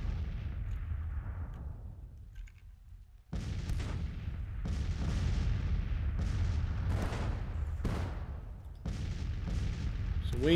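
Civil War–era musket volleys and artillery fire from the strategy game Grand Tactician rumble on and off, with a sustained low roar of battle broken by repeated sharp bursts, continuous and moderately loud throughout.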